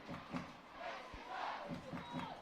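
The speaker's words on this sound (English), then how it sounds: "Crowd starting to make some noise getting behind the Chiefs" A rugby crowd at an Exeter Chiefs women's match roars and chants in support of the home side, a distant, swelling mass of voices heard briefly.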